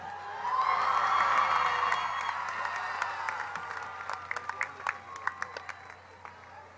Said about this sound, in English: Let's one more round of applause for all of our undergrads and grads.